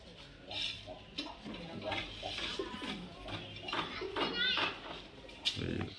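Madras pigeons cooing softly in a loft, low throaty coos repeating under steady close talking, with some light background bustle.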